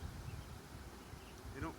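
Steady, close insect buzzing from bees, a continuous low drone with a brief louder pass near the end.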